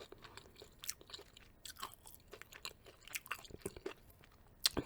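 Someone eats Popeye's chicken fingers up close, with irregular crisp crunches and wet chewing at a soft, intimate level and no talking.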